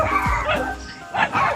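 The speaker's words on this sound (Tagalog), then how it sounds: "Nagalit na yung aso." A dog gives a few short, yipping barks and whimpers at fairly close range, with wind and ambient outdoor noise around it, on a hilltop above a harbour pier.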